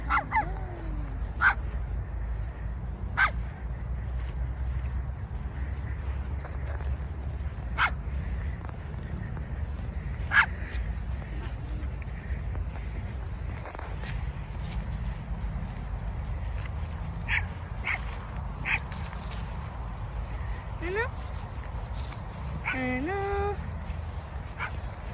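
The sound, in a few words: dog barking and whimpering in a park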